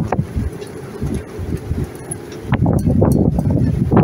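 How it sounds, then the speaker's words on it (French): Strong wind blows in gusts at Vaitahu on Tahuata, a loud, rumbling buffet against the microphone that rises and falls, then swells into a heavier, sustained gust in the second half. "aujourd'hui, on peut dire que ça souffle. Hein, ça fait que ça, rafale sur rafale"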